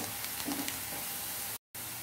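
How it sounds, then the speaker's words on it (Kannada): Ground masala frying with browned onions in a pan for mushroom ghee roast, giving a steady close sizzle with a brief cut to silence near the end. "ಅದನ್ನು ಇದಕ್ಕೆ ಹಾಕಿ ಫ್ರೈ ಮಾಡ್ಕೊಳ್ಬೇಕು."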